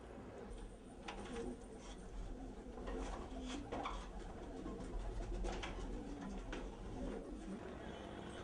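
Pigeons coo in low repeated calls around rooftop coops in Urfa, faint and somewhat distant under background noise and occasional indistinct activity.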